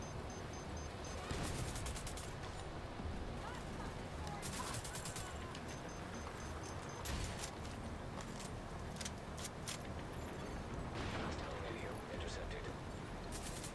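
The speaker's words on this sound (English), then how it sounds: "I hear gunfire." Gunfire in the video game The Division 2, with bursts of rapid shots and sharp cracks scattered over a steady noisy game soundscape, fairly faint and distant, while a voice talks over it.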